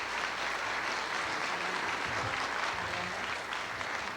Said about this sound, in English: Why don't you give them a nice round of applause?